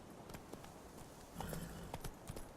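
Geralt's horse Roach in The Witcher 3: Wild Hunt, hooves clip-clopping in a quick uneven rhythm of sharp knocks that grows a little louder toward the end, with faint ambient background.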